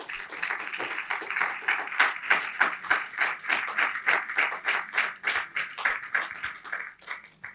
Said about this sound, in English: that's a very good sign to get spontaneous applause when you're halfway through thanking someone